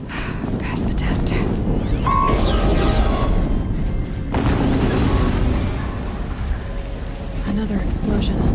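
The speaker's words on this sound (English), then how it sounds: "Another explosion." Booming explosions and rumbling blasts from the video game Horizon Zero Dawn, loud and dense, with debris-like crackle and mechanical sounds layered over the game's ambience.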